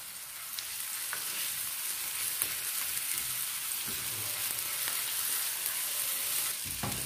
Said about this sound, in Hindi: साथ हम इसमें अपने जो ये अदरक लहसुन का पेस्ट है थोड़ा सा वो डाल देंगे।